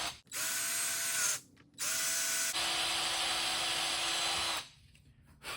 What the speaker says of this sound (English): now I drill a hole